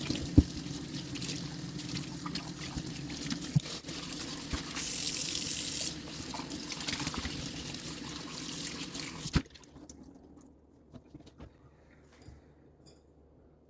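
Water runs from a kitchen tap as laundry is rinsed in the sink, a steady rushing flow that stops abruptly partway through, leaving a few faint drips and clinks in a quiet room.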